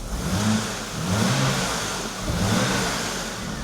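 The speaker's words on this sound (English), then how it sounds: "I'll give you guys a little rev here in the shop before I asphyxiate myself." A BMW Alpina B10 Biturbo E34 engine revs hard in a few surging waves, loud and close, rising and falling inside a shop.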